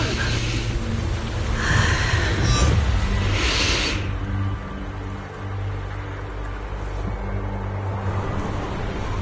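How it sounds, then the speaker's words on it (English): Wind gusting in the game Zenless Zone Zero, a steady broad rush with a brighter swell early on, settling into a low continuous blow as a voice speaks. "The wind. It's shifting."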